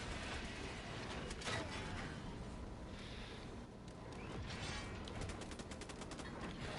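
Heavy gun in the Helldivers video game firing at a bug nest, sustained rapid bursts of distant-sounding gunfire with dense crackling impacts running continuously, no talking over it.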